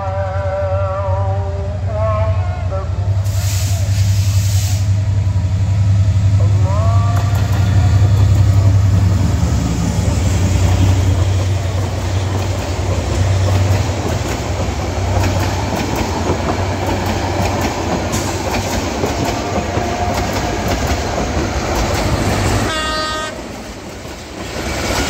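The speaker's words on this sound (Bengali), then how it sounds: "ট্রেন চলে গেল, সোনার বাংলা এক্সপ্রেস" A Bangladesh Railway passenger train, the Sonar Bangla Express bound for Dhaka, slowly approaches and rolls past close by. A loud, steady rumble and clatter of wagons builds, with horn blasts near the start and again near the end.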